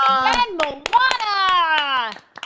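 A few hands clap in scattered bursts on a Zoom call, partly buried under loud voices talking over them.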